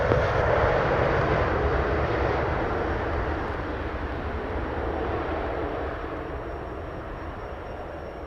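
A Southwest airliner on approach to runway 07 at Sangster International Airport in Montego Bay gives a loud, continuous, broadband jet-engine roar that slowly eases off over several seconds, with no talking.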